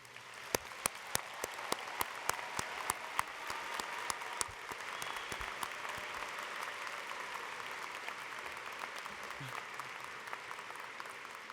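A university commencement audience breaks into loud, sustained applause for newly conferred doctoral graduates, dense clapping filling a large hall with a few sharper claps standing out early on.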